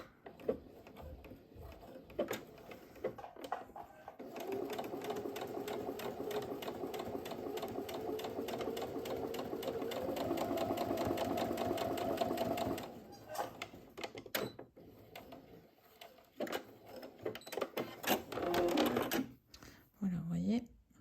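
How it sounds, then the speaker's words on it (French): A sewing machine stitches a seam close to the edge of a zip pouch, its needle running in a long steady rapid burst with shorter bursts before and after, while someone talks over it. "je vais juste faire une petite couture de chaque côté à 1 mm du bord"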